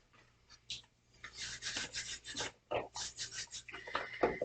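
Hands knead floury noodle dough in soft, intermittent rubbing and squishing strokes, quiet and close, separated by short pauses.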